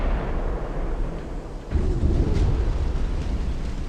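Warship secondary guns firing in the naval battle game Ultimate Admiral: Dreadnoughts, a dense, rumbling barrage of booming shots that swells louder partway through, with no talk over it.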